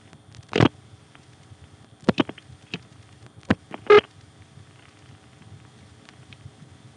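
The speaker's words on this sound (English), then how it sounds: "The earpiece is cutting out constantly thanks to the dial." A rotary dial on a 1976 payphone on an NX2 crossbar exchange sends sparse clicks and short bursts of pulses over quiet line hiss, with the call line cutting in and out.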